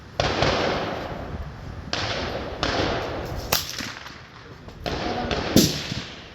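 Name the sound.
suppressed Rossi RS22 rifle shots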